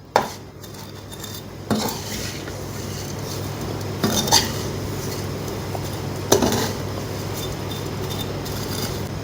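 Vermicelli roasting on low flame in a pan for an Indian-style kunafa, stirred with a utensil that scrapes and clinks against the metal at intervals over a steady soft sizzle, close and without talk.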